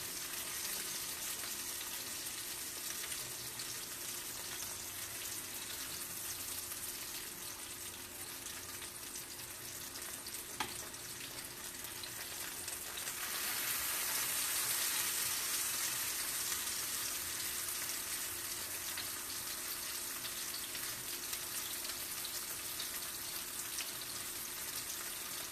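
Breaded milanesa frying in a pan gives a continuous, even sizzle and spatter that holds steady throughout, with no one talking.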